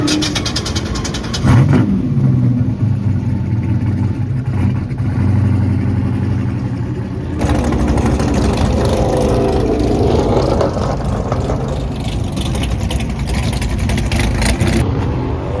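A six-speed manual Infiniti G37s at a drag strip revs hard and close, its engine note rising and falling through repeated throttle blips and a steady high-rpm drone, with a sharp shift in tone partway through and a loud, continuous presence throughout.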